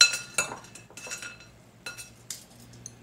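Cookie dough for black walnut chocolate chip cookies is scooped onto a baking tray, a few sharp metallic clinks and taps of spoon against metal, close and spaced out with quiet gaps.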